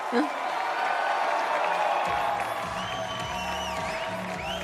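A crowd at the Dock Masters 2020 finals competition cheers and applauds in a sustained roar, with whoops rising over the steady noise as a competitor gets the audience behind him.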